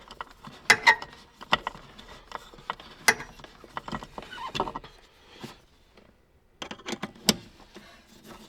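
Ratchet tightening engine isolator mounts during an ECU install on an LS-swapped, Hellcat-supercharged WRX, a close series of sharp clicking and clanking bursts in uneven groups with short quiet gaps.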